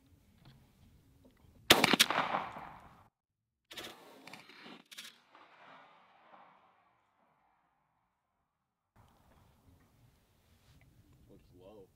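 A Mossberg SA-410 shotgun firing an Apex .410 load at a pattern target 40 yards away: one loud, sharp report followed by quieter clacks of the action, with people speaking softly afterward.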